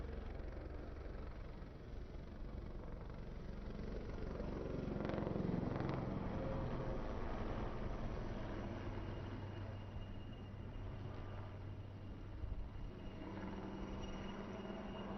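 An ALH helicopter flying in a naval air display, its rotor and engine a muffled, distant drone that swells slightly as it passes, heard over a low outdoor background.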